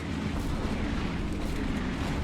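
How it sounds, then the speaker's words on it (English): An 82mm mortar barrage pounding a bridge in a World War II video game set in Poland in 1945, a dense, continuous rumble of overlapping distant blasts with no pause. "82mm mortar preparation at the bridge."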